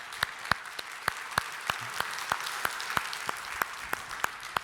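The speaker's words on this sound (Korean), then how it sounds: "감사의 박수 하겠습니다." A church congregation claps steadily in a hall after a jazz trio's performance, with sharp louder claps standing out in a regular rhythm over a dense, sustained wash of applause.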